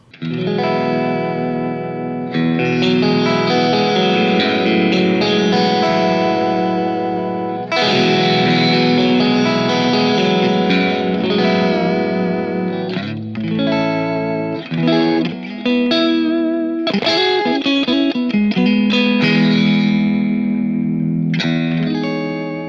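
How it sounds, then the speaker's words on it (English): Jangly electric guitar chords strummed with a wavering whammy-bar pitch bend, loud and continuous with effects, no voices. "shaking out jangly chords with the whammy bar"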